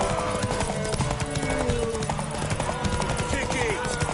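Horse hooves clip-clop steadily in The Witcher 3 video game, with whinnies and game voices over the busy scene.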